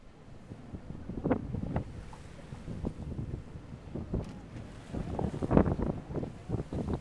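Strong gusting wind buffets the microphone aboard a whale-watching boat on rough winter seas off Tromsø, Norway, with low rumbling bursts and waves under it; no speech.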